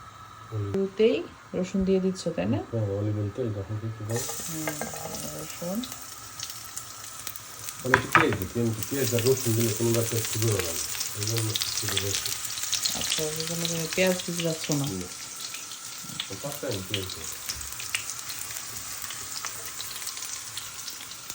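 Garlic and shrimp fry in olive oil for a spaghetti sauce, a steady bright sizzle running throughout with occasional stirring clatters, while a voice talks over it nearly continuously.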